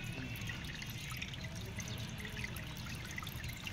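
Water drains from the tank of an Azahi air cooler fan in a continuous trickling, pouring flow with faint dripping, close and steady throughout.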